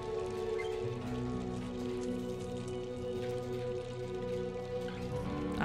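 Steady rain patters outside a window in the video game Gray Matter, a soft, even hiss of falling drops under sustained, moody background music.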